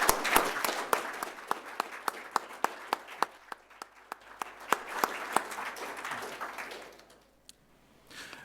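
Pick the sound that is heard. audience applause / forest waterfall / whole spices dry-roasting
audience applause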